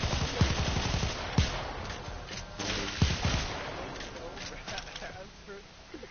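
Akstiletto pistols fire in Warframe, a few sharp shots at irregular intervals over dense game noise, with talk running underneath.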